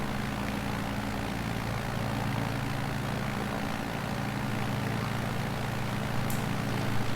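Steady drone of a light propeller aircraft engine at full throttle in Microsoft Flight Simulator 2020 on Xbox Series X, flying a tour over Bathurst; the engine holds a constant, even roar throughout with no speech.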